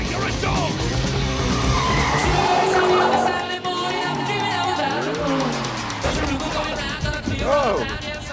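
A car tears away in an escape chase, its tires skidding and squealing loudly and continuously across the whole stretch, with engine roar and excited voices shouting over it.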